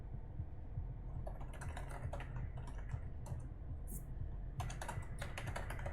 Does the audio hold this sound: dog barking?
no